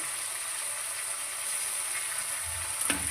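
Garlic, ginger, onion, spices and green chili paste sauté in a pan for papad singara filling, with a continuous close sizzle and a brief stir near the end.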